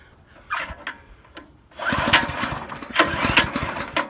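A Yamaha Banshee 472 ATV engine sputters through a few weak catches, then fires up and runs with a loud, rough two-stroke rattle, close by.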